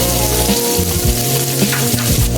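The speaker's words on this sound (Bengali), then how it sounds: "পেঁয়াজ কুচিগুলো হালকা বাদামি করে ভেজে নিচ্ছি" Chopped onions fry in oil in a wok, a loud continuous sizzle with a few scraping stirs and low thumps partway through.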